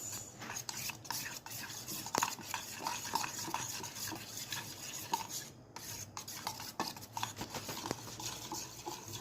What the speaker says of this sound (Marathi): भरपूर हलवायचं याला, जोपर्यंत ते पूर्ण घट्ट आणि सगळ्यासोबत मिक्स नाही होत.